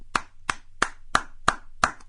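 Six evenly spaced hand claps ring out alone, close and crisp, in a slow steady rhythm.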